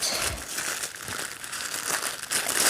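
Crinkling and crumpling of a package being unwrapped, a sticker seal and bubble wrap around a quartz crystal, heard close up as a steady run of crackly rustles with a few sharper tearing bursts.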